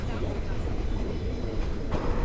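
Train rolling slowly along rails on a trip to Elgin, a steady low rumble and rattle throughout, close and continuous, with faint voices mixed in.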